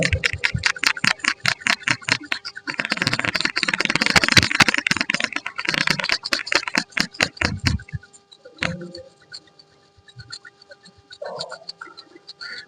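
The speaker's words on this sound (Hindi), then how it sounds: "हथेलियों को पूरी ताकत से रगड़ लें।" During a group yoga session, palms rub together vigorously in a fast, continuous rhythm of dry swishing strokes for about eight seconds, then fade to near quiet with a few faint stray sounds.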